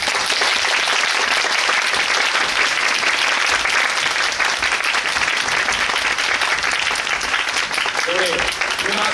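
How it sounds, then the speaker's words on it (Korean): Loud, sustained audience applause at a musical's post-show talk event as the cast, director and composer are introduced, a dense continuous roar of clapping from a full crowd throughout. "큰 박수로 부탁드리겠습니다."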